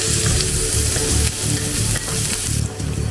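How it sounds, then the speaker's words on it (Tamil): Masala-coated chicken fries in a hot pan with a loud, continuous sizzle and crackle, broken by the scrape of stirring and occasional bursts of spitting oil, and no voices. "அந்த மசாலா ஊர்ன டேஸ்ட்டோடு இருக்கிற சிக்கனை இன்னும் ஃப்ரை பண்ணி"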